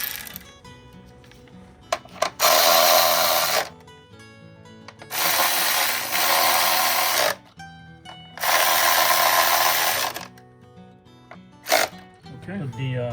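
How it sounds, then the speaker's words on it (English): A 10mm power tool whirs in three loud bursts of a few seconds each while tightening a screw on the engine cover of a 2015 Honda Accord, with quiet clicks and handling noises between bursts. "I'm going to use this 10mm power tool."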